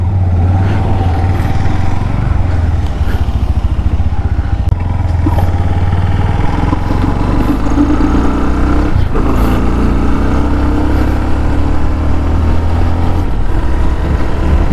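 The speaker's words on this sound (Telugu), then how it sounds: "ఇంజిన్ మనకి 2000 RPM దగ్గర అయితే రన్ అవుతుంది స్టార్ట్ చేసినప్పుడు." A 2024 Bajaj Pulsar NS160 with dual-channel ABS runs just after being started, its engine settling near 2000 RPM into a loud, steady, close idle with a few slight rev swells.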